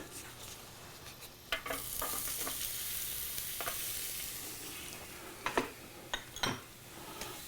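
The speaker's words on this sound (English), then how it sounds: "You can hear a little sizzle. Those are the mushrooms." Mushrooms and red onion sizzle steadily on a hot grill, with occasional scrapes and clinks of a utensil stirring, close by and fairly quiet.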